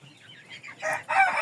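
A few close clucks from young chickens, short and rising in pitch, growing slightly louder toward the end.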